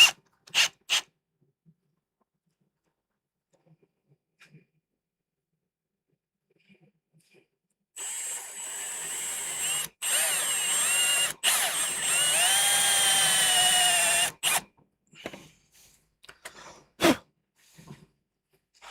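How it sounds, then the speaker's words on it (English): Power drill boring a shallow hole into a scrap piece of oak, a loud steady whir with a rising pitch lasting several seconds, broken by brief pauses. "Now I need to drill a hole not too deep"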